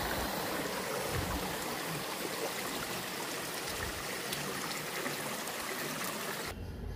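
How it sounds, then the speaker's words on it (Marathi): Rain-swollen water rushes hard down stone steps at Chhabimura in Tripura, a dense, continuous roaring wash heard close and alone, with no voices. "पायऱ्यांवरून जोरात वाहणारं पाणी"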